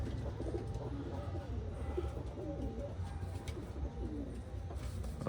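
Pigeons in a loft, including newly acquired birds, coo softly and repeatedly against a low background hum, with the throaty calls overlapping at close range.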